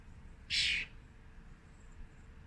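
A single bird call rings out, short, loud and shrill, rising once above a quiet indoor background before everything falls still again.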